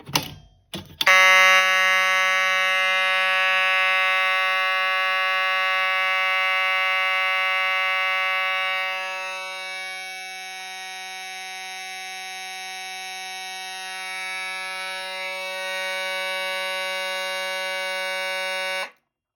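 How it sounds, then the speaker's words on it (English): A loud continuous electronic fire alarm, set off by pulling a Kidde B5 pull station on a Fire-Lite MS-5UD panel, buzzes steadily after a brief click, droning on for many seconds with a slight dip partway through. "I'm going to go ahead and pull the Kidde B5"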